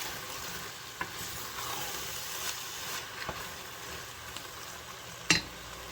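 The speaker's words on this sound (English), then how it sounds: "Now I'm going to add in a fire roasted diced tomatoes. Juice and all." Fire-roasted diced tomatoes with their juice stirred into a pot of chili, a soft steady sizzle with occasional light spoon knocks and a sharper clink near the end.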